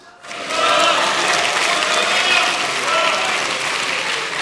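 Sustained applause fills the National Assembly chamber, starting suddenly after a brief quiet and holding as a loud, dense wash of clapping from many hands, with a voice faintly underneath.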